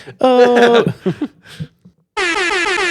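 Someone speaks briefly and excitedly, then a loud, sustained air horn blast cuts in and keeps blaring to the end.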